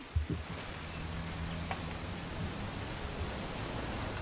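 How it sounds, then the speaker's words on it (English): Steady rainfall in the video game What Remains of Edith Finch, a soft, even hiss of falling rain with a couple of faint knocks near the start and no voices. "It's gonna rain the whole weekend, isn't it?"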